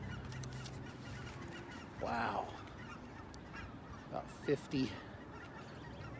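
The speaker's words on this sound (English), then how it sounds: "50 geese, pretty cool. Heading back north" A flock of about 50 geese flying north, a few honks spaced out over steady outdoor background noise, with a person speaking briefly among the calls.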